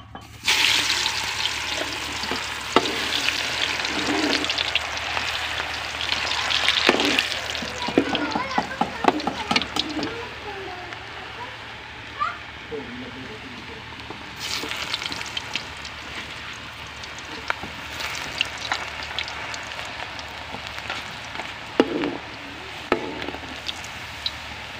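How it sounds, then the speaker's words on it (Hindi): Chips frying in hot ghee in a kadhai give a steady, close sizzle with bubbling bursts, interrupted by occasional knocks and scrapes, easing and rising again over about twenty-five seconds. "घी गर्म हो गया, हम इसे डाल लेंगे चिप्स"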